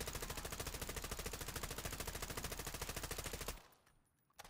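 Video game gun firing fully automatic on a firing range, a steady, dense, evenly spaced stream of loud shots that lasts several seconds, then cuts off abruptly into quiet.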